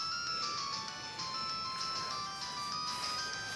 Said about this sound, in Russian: У тебя телефон звонит.